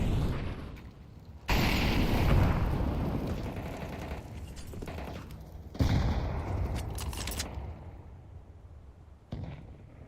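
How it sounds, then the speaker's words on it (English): Counter-Strike match action with a grenade blast and gunfire: sudden loud bursts followed by dense, rumbling, crackling explosions and shooting that fade, then flare again, with no talk over them. "It's also great nade onto Virtuoso to start things off."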